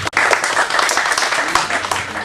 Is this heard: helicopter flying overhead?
no